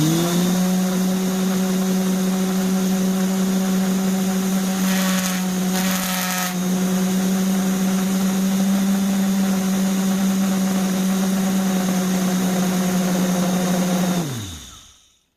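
A power tool motor hums loudly and steadily for about fourteen seconds, with a brief rattling grind midway, then winds down to a stop.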